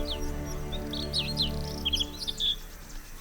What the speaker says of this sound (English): A male's song marks the territory for him and his mate.